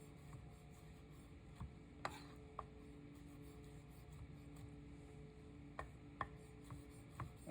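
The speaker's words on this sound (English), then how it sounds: "it's just a matter of cutting slices of the tomatoes first" Knife slicing tomatoes lengthwise on a cutting board in a kitchen-skills lesson: a handful of faint, sharp taps spaced irregularly over a quiet, steady room hum.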